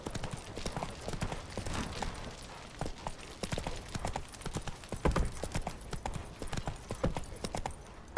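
Roach the horse gallops in The Witcher 3, with steady rapid hoofbeats drumming close and continuous over faint game ambience.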